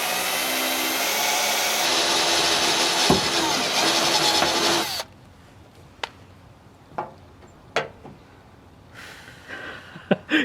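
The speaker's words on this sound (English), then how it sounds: "what if I don't drill the second hole correctly?" A steady high drill whine runs for several seconds while drilling a hole in a Fender guitar body, then stops, followed by scattered clicks and knocks of handling in a quieter room.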